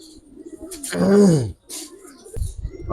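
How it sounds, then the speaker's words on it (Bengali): A large female pigeon gives a single close, rolling coo, with faint rustling and a low thump around it. "এটা তো ভাই মাদি কবুতরটা ভাই"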